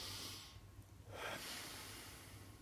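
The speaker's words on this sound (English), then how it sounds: "breathe in through your nose" One slow breath drawn in through the nose while bracing the core, a close, airy hiss that swells after a short quiet pause and then trails off.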